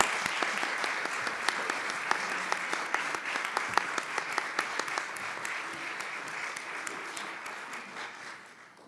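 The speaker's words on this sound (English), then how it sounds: "Please give them a huge round of applause." Sustained applause from a seated audience honoring a panel at an opioid crisis discussion event, steady dense clapping lasting about nine seconds before starting to fade.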